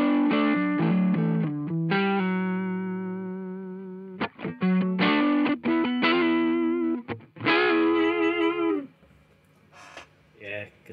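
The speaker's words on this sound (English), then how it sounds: "this is sort of a edge of breakup kind of setting that we've got it going." Electric guitar through a Mozztronics drive pedal set at the edge of breakup, strummed chords and single notes ringing with light grit and chorus-like shimmer, close and clear, with a few quiet gaps near the end.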